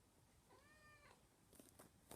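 Rosie, a fluffy pet cat, lets out a single short plaintive meow at close range, followed by a few soft rustles and a sharp bump at the end in an otherwise quiet room.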